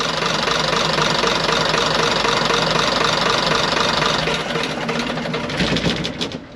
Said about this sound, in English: doesn't want to switch the engine off though